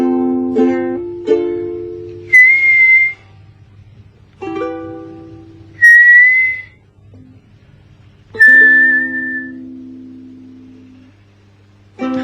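A voice imitates a whistling way of speaking: buzzy hummed syllables broken by three sharp, rising whistles, over a constant low hum.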